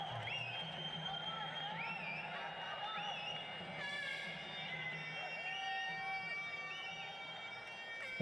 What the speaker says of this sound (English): Well, the crowd seemed to like him.